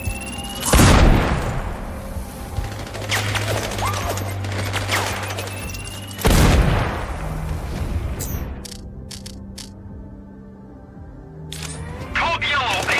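Explosions in the video game Sniper Ghost Warrior Contracts 2: two loud, booming blasts several seconds apart, each followed by crackling debris and rumble, with voices in the game heard around them.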